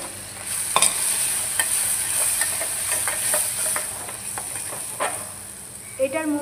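Yogurt paste added to a hot pan and stirred, giving a steady frying sizzle and hiss with soft scraping stir strokes throughout, close and fairly loud, with a brief voice near the end.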